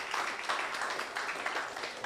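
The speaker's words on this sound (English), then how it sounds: "can you give another round of applause, please?" Dense, steady clapping from a finance conference audience fills the whole stretch, moderately loud with no voices on top.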